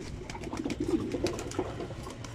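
Soft repeated cooing of pigeons inside a breeder's loft, a few low burbling calls close by with light fluttering patter, with no one talking.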